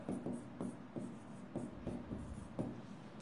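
A pen writing on paper during a worked accounting problem, quick scratchy strokes in short bursts with brief pauses between them, faint and close, no talking.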